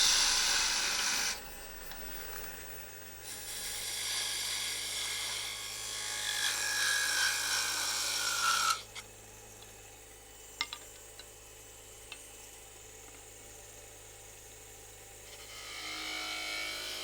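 A wood lathe spins while a tool scrapes and hisses against wood in long rasping passes, turning a tenon on a shaker knob, then falls quieter with a few sharp ticks.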